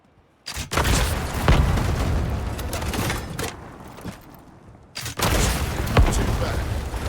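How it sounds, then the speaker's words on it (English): A rocket slams into grey stone walls in the video game Highguard: sharp explosive bursts at the start and again near five seconds, each trailing into rumbling, crackling debris and gunfire-like noise that stays loud and close throughout. "Grab that rocket."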